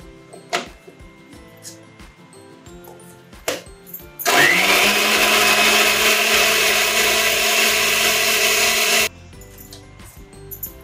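A kitchen blender grinds onion, tomato, garlic and ginger into a paste, a loud steady whirring roar running about five seconds in the middle, with quieter handling noises before and after.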